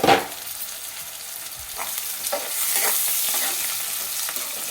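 Onions browning in a pan for carrot curry give a soft, steady sizzle, opening with a knock and followed by a few light stirs, close and without voices.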